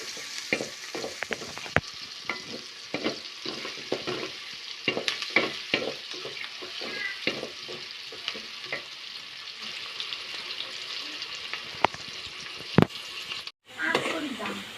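Onions fry and sizzle in a pan while a utensil stirs them, making repeated scraping clacks over a steady hiss, with a brief break near the end.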